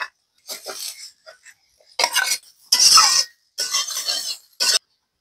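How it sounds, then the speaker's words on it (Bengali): Fried potato pieces go into a pan of bitter gourd shukto, a few separate bursts of clinking, scraping and stirring with a utensil against the pan, close and moderately loud, with short quiet gaps between. "ভাজি করে রাখা আলুগুলো দিয়ে দেব।"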